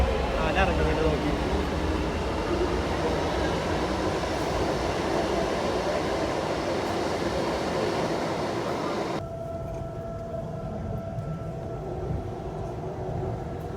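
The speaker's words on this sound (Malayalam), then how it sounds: "ഗൈസ് മെട്രോ ഭയങ്കര സ്പീഡാട്ടോ ഗൈസ്." A Bangalore metro train runs at speed, a steady loud rumble and rush that fills the clip and drops to a quieter interior hum partway through, with people talking.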